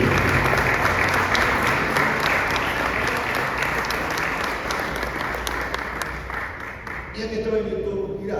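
A crowd at a Book Day event applauds with loud, sustained clapping. The applause fades slightly toward the end as a voice begins speaking.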